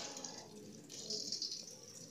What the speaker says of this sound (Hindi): थोड़ा सा मैंने पानी डाल दिया ताकि मसाले जो हैं हमारे वो लगे नहीं